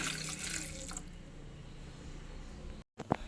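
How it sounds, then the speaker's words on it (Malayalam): Water runs steadily for about a second, then gives way to quieter rustling and a brief sharp clatter near the end. "ഇതിന് ഒന്നര കപ്പ് വെള്ളവും കൂടി ഒഴിച്ചു കൊടുക്കുന്നുണ്ട്"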